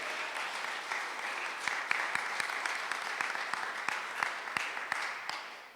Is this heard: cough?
no